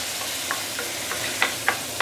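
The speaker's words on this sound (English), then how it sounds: "Putting in the tomato." Tomato pieces dropped into a pan of Penang curry fish aromatics sautéing over low heat, giving a soft steady sizzle with a few light stirring clicks and taps near the end.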